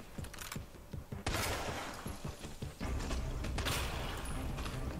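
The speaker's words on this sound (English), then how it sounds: "Those were precision shots. Two shots, three zombies down." Gunfire in Resident Evil 2 as zombies are shot: two sharp blasts a second or so apart over mechanical clicks and creaks. Each shot leaves a denser rumbling tail behind it.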